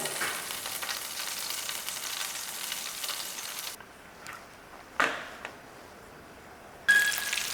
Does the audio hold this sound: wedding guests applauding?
no